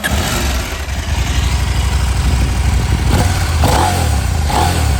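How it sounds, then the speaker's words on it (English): A Husqvarna Norden 901 motorcycle on its standard exhaust runs close and loud, holding a deep steady engine drone with slight rises in pitch toward the end, and nobody speaks. "So that's the standard exhaust,"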